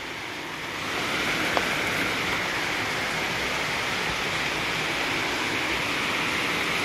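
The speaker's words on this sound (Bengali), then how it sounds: "এই দেখেন কি বৃষ্টি শুরু হয়ে গেছে।" Heavy rain pours outside a home, a dense, steady hiss that swells in the first second and then holds loud and unbroken, with no talking.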